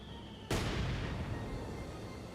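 A single heavy artillery shell blast from the World War II strategy game Company of Heroes 2, landing as a sudden loud boom and then rumbling and crackling away over a couple of seconds.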